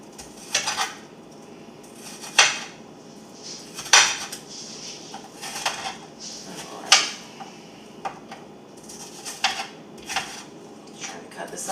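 Knife chopping ingredients on a cutting board while making meatloaf in a home kitchen, sharp irregular knocks spaced a second or two apart, close and moderately loud, with faint kitchen clatter between strikes.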